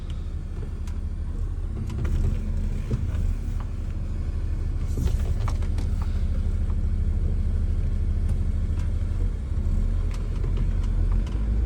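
The 3.2-litre OM648 diesel of a heavy Mercedes Sprinter 516 box van drones steadily while driving, with low rumble and occasional rattles and knocks from the cab.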